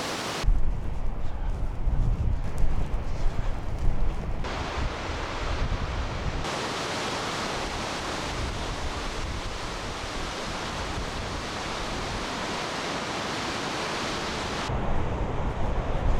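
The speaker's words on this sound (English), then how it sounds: "a waterfall that we saw on the side of the road" Roadside waterfall in Iceland along the Ring Road, a steady, loud broadband rush of falling water mixed with wind buffeting the microphone, continuous with no voices.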